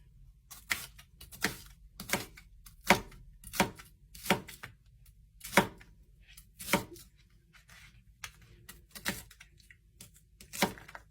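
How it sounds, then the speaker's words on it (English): A knife slices an onion on a cutting board with a steady run of crisp, close chopping taps at roughly one-second intervals, heard alone. "how I usually cut an onion"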